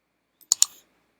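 A few quick computer keyboard keystrokes, three or four brief clicks close together including a louder return-key press, crisp and near, with no talking.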